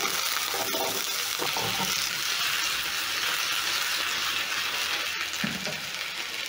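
Small breakfast potatoes sizzle in hot oil in a pan, a steady, loud, continuous frying hiss with faint crackles and no talking.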